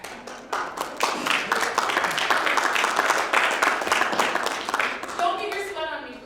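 Sustained audience applause at a political summit event, dense clapping filling the room at steady loudness before tapering, with a few voices and cheers mixed in near the end.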